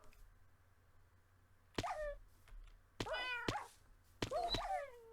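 Cats in the Minecraft modpack Stoneblock give three separate meows, each opening with a soft thunk, over quiet game ambience.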